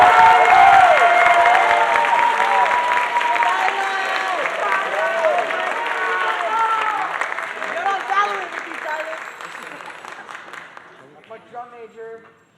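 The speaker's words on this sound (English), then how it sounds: "So another round of applause for the ensemble and the directors and Tyler." A crowd at a high school spring concert applauds loudly with scattered cheers and whoops, the clapping sustained and then tapering off near the end.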